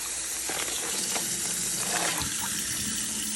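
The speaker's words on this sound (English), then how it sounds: "So what I'm gonna do is I'm just gonna rinse it out." Tap water runs into a plastic baggie being rinsed out at a sink, a continuous close gush with shifting splashes as the bag moves under the stream.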